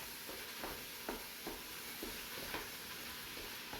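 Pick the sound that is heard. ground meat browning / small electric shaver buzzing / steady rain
ground meat browning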